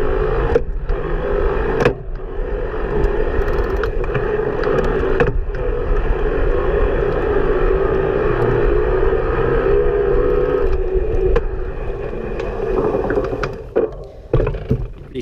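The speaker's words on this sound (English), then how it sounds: "You can hear at those higher RPMs, the motor, you know, it's a little bit more of electronic sound than at the slower pedaling" A Kalkhoff Integrale S11 e-bike's motor spins at high RPM, a steady electronic whine and hum that holds for the whole ride, with occasional bumps and clicks and some road noise.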